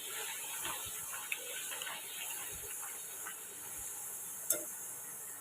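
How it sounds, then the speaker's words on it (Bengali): Luchi, puffed Bengali flatbread, frying in hot oil: a faint, steady sizzling hiss that runs throughout, with a couple of tiny clicks and pops. "দেখো বন্ধুরা, লুচি ভাজা শুরু হয়ে গেছে।"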